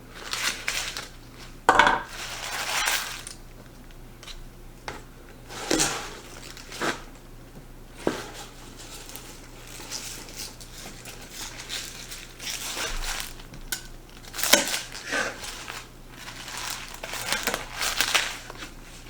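A knife chops kale, garlic scapes and onion tops into short sections on a board, landing as irregular crisp cuts and rustling leafy crunches, close and fairly quiet, with pauses between bursts of strokes.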